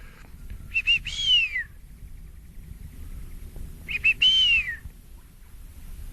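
A person whistles an imitation of a wild bird call in the Blue Mountains: two clear, bright whistled phrases about three seconds apart, each rising then gliding downward, over quiet outdoor ambience.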